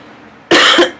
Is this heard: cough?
yes